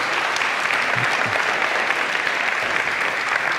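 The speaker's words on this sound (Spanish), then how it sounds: "Demos un aplauso, vienen tres horas manejando." A congregation at a church service applauds to welcome visiting brothers, steady dense clapping that holds evenly for several seconds.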